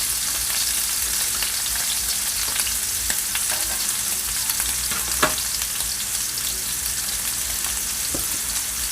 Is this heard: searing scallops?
yes